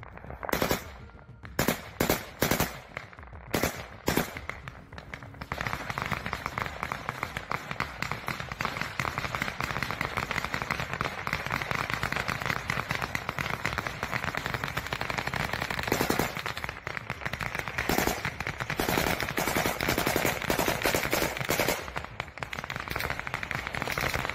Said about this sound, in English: Russian armed forces opened fire on a long-range UAV of the armed forces of Ukraine.